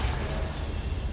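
A Confringo blasting spell goes off in Hogwarts Legacy, a dense, loud rumbling burst that fills the moment with no voice over it.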